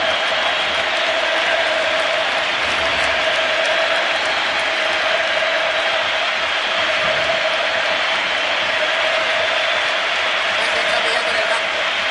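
A packed football stadium gives Barcelona captain Andrés Iniesta a sustained ovation as he leaves the pitch, a dense, steady roar of clapping and crowd noise filling the whole span without a break.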